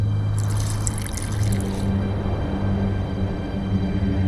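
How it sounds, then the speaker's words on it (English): Water poured into a mixture of burnt lime in The Witcher 2: a steady splashing pour in the first couple of seconds, then a softer trickle over a constant low ambient hum. "A bit of water."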